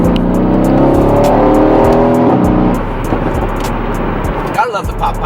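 Mercedes-AMG C63 V8 under way, with a loud, steady engine drone that drops off and breaks into crackling exhaust pops near the end, heard up close from the cabin.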